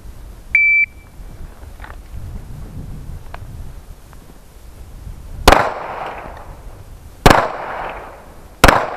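On a tactical pistol qualification course, a short electronic beep starts the string and three sharp, loud pistol shots follow a second or two apart, each echoing briefly.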